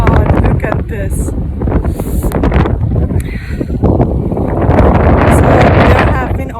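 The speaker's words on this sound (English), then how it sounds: "it's too windy, and it's been too much snow" Strong blizzard wind during a snowstorm in Toronto buffets the microphone with loud, roaring gusts that rise and fall throughout, swelling toward the end.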